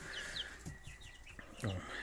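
Chickens cluck close by, several short calls over a low murmur of farmyard noise.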